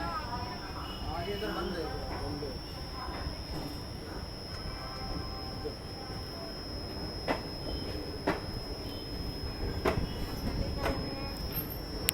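Train 14320 from Bareilly to Indore pulls out of Aligarh Junction with a steady broadband rumble, a thin high whine and occasional sharp wheel clacks that grow a bit more frequent over time.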